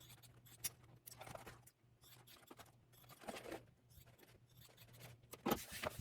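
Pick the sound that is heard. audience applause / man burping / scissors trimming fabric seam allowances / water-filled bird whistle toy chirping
scissors trimming fabric seam allowances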